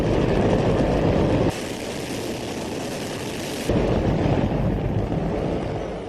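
A hydrogen-fuelled rocket engine fires with a loud, continuous broadband roar that drops in level through the middle and then surges back up.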